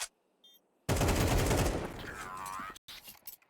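Rapid burst of rifle gunfire during a professional Counter-Strike 2 match on Anubis, a loud sustained volley of shots lasting a couple of seconds, then a brief pause and a few more scattered shots.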